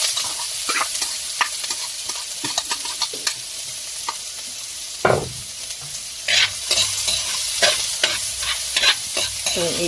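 Food stirred and frying in a pan, a steady sizzle under repeated scraping and clanking of a utensil against the pan, with louder clatters toward the end.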